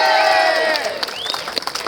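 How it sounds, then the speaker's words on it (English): A crowd at an Australia Day march rally cheers and claps, with whoops and shouts rising over the applause, loud at first and then easing. "One round of applause for Joel!"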